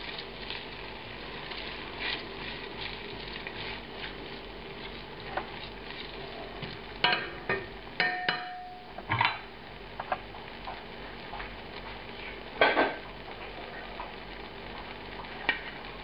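Brussels sprouts sizzling in melted butter in a pan, a steady soft crackle with scattered clicks and taps of tossing and stirring, close by and without talk.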